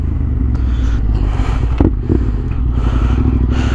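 A Yamaha Tenere 700 adventure motorcycle ridden off-road, its engine giving a loud, steady low rumble close by, with gravel clatter and scraping bursts over the drone.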